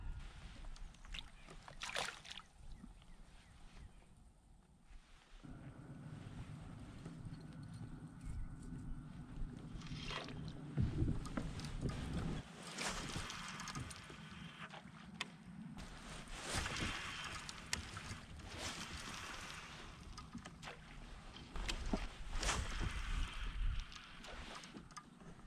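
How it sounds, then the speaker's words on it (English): Kayak paddle strokes and water splashes as the boat crosses a channel near houseboats on a freezing winter day, with rhythmic knocking and sloshing close by over steady wind noise. "I paddled back across the channel there"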